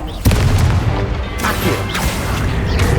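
A Confringo fire spell explodes in a duel in Hogwarts Legacy, a sudden loud boom followed by a rumbling crash and crackling debris that fades under a couple of lighter impacts.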